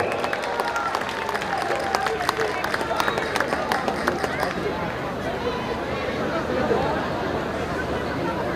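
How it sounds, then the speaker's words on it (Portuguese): Audience applause at a Saturday night Nossa Senhora do Rosário festival in Santa Eufémia, Guimarães, with dense crowd clapping and chatter filling the first half before thinning into a lively murmur. "Joaquim Teixeira, um forte aplauso."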